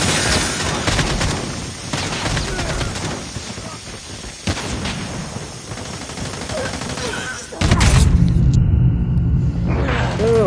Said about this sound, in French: Enemy airstrike incoming, be careful.